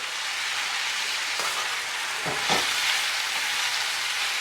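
Bitter melon frying in a pot with roasted cumin, amchar masala and curry powder, a continuous hiss of frying with a brief burst of stirring and scraping near the middle.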